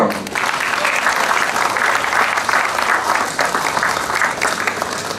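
Sustained audience applause at a gastronomy fair, a dense wash of many hands clapping steadily for several seconds with no voices over it.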